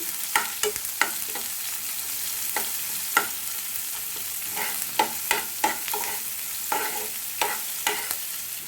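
A small onion is fried in a pan for a rava puri and chutney dish, with a soft sizzle under sharp, irregular clicks and scrapes of a spoon stirring against the pan.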